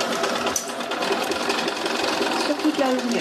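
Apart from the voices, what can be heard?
sewing machine stitching a straight-stitch seam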